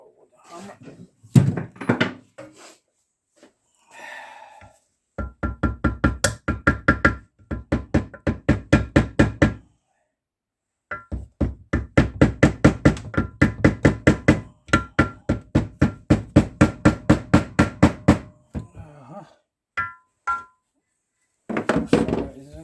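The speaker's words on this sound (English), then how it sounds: "Or with a hammer." A hammer raps on Zundapp KS 600 motorcycle gearbox parts during disassembly, loud close bursts of rapid knocks repeated in several runs with short pauses between them.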